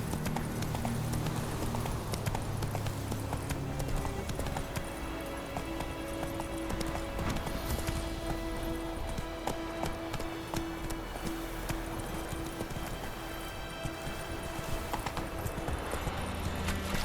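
A horse gallops in The Witcher 3 video game, with rapid, continuous hoofbeats that stay loud and steady throughout, joined by a game soundtrack and ambient effects.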